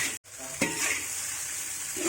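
White nasi goreng fries in a pan, sizzling steadily with scraping stir strokes and one sharp clink, heard close and alone.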